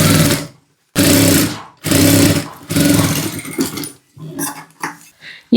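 Domestic sewing machine stitching a blouse seam, loud nearby whirring bursts starting and stopping in several short runs, with brief pauses between them and light handling noises near the end.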